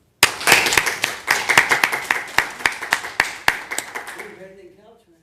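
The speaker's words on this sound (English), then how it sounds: "I'd like to give you all a round of applause." Applause in a city council chamber, loud and close, starting abruptly with sharp, separate claps from a small group that slow and fade over a few seconds before stopping.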